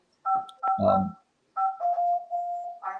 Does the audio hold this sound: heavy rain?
no